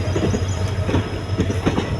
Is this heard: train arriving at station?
yes